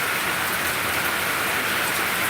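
Heavy downpour, a gully-washer rain on a farm, hissing steadily and loudly as a dense, unbroken wash of drops close by with no pauses.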